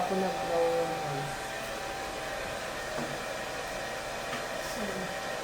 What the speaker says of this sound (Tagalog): Ngayon nag-blower ako.